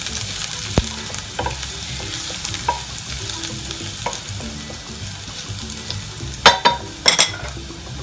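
Ginger and garlic sizzle steadily in a hot pan while a spoon stirs and scrapes, with a few sharper clinks and pops near the end; no voices.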